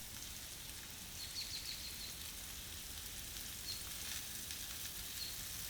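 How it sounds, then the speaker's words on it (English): Mushrooms and garlic fry in olive oil in a pan, a quiet, steady hiss and crackle without pauses and no voices. "When I see that the garlic starts frying,"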